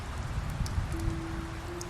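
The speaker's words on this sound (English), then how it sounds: "Rough rainy day." Steady rain falls in the video game The Wolf Among Us, a constant even hiss with a faint low hum beneath it and no voices.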